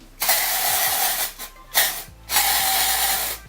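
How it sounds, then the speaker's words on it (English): Three bursts of hissing aerosol spray, close and loud, the last one longest, separated by short pauses. "we're just going to spray some dry shampoo into the roots of my hair"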